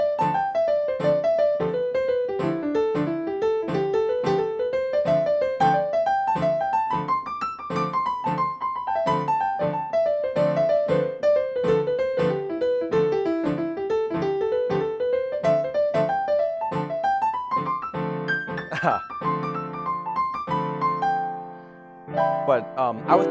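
A keyboard plays a steady pulse of left-hand chord hits while the right hand solos in flowing runs that climb and fall, a busy, even-level performance up close that thins out near the end.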